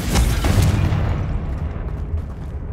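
Confringo fire spell blast in the game Hogwarts Legacy, a single heavy boom at the start that rolls off into a fading crackling rumble.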